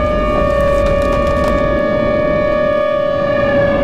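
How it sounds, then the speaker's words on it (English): A loud, steady Minecraft tornado warning siren drones continuously with sharp harmonic tones, like a civil defense siren wailing without pause. "And tornado sirens are going off like crazy."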